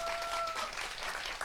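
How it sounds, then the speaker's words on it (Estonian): An audience at a community event in Estonia applauds in a brief, steady wash of clapping, dense and even across the moment. "tormilise aplausi saatel, jätkuva aplausi saatel"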